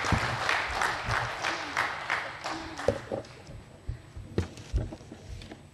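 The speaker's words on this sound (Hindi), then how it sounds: "उतने ही जोर से तालियां बजाकर हम इस प्रस्ताव का अनुमोदन।" A seminar audience at a plenary session claps in approval of a resolution, scattered uneven applause with sharp claps over room noise, fading toward the end.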